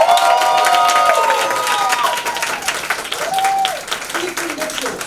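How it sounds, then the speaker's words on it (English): A live audience at a comedy action horror stage show claps and cheers after a tiger stunt, with steady close applause and a few rising whoops cutting through the crowd noise. "The crowd applauds."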